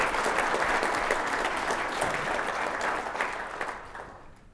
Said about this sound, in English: we should give him a round of applause for that